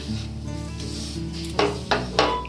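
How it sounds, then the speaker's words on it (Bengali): Semolina being stirred in a pan over a low gas flame, with a soft continuous scraping and faint sizzle and a few louder clinks of the spoon against the pan near the end. "এইভাবে আলতোভাবে 1 মিনিট ধরে ভালো করে নাড়াচাড়া করে নিতে হবে।"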